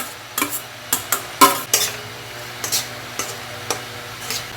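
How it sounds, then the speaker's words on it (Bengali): Finely chopped onion goes into mustard oil left from frying prawns, a soft sizzle under a series of sharp spatula scrapes and clinks against the pan, roughly a dozen strokes in uneven rhythm. "এই মিহি করে কুচানো পেঁয়াজটা কিন্তু এবার এই চিংড়ি ভাজার তেলেতে আমরা ভেজে নেব।"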